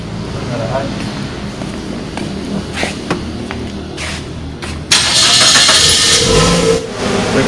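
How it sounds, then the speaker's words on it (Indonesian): A vehicle engine is started for an emissions test: a spoken voice and small handling sounds at first, then the engine cranks and catches into a loud, steady mid-pitched run for the last few seconds. "Kemudian berikutnya kita nyalakan kendaraan."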